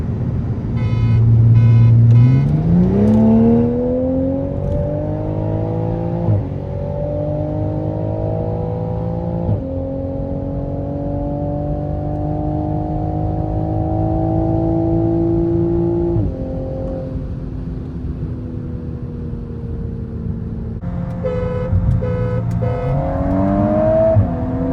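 A stock BMW M340i with a B58 engine and a stock MK8 Golf R accelerate hard side by side in a roll race, a loud sustained engine drone climbing through the gears with shift breaks and no talking.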